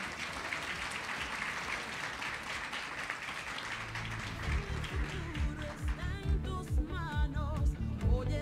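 Applause from an audience at a national awards ceremony honouring outstanding teachers, a sustained wash of clapping that later gives way to a livelier mix with voices and sound from the hall.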